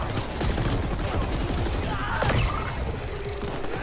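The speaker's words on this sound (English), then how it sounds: "Look out, you're in a firefight" Video game firefight gunfire crackles in dense, rapid bursts of shots and impacts throughout, loud and continuous with little pause.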